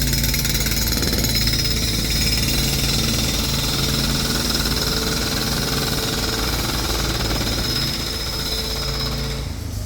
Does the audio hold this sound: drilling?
yes